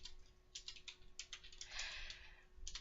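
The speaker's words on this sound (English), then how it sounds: "I'm going to go to Google and just type in like" Keys clatter on a computer keyboard as a search is typed, quick soft clicks in short bursts, faint and close with low background hum.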